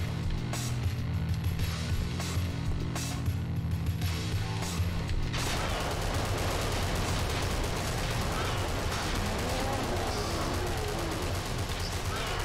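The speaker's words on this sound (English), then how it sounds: "I'm not gonna stop shooting until I absolutely freaking have to." Continuous rapid video game gunfire with mechanical clatter runs throughout, dense and loud with no pauses.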